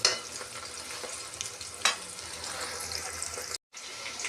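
Whole spices fry in a pan for Andhra-style country chicken curry, giving a steady soft sizzle with occasional stirring scrapes and a brief cut to silence near the end.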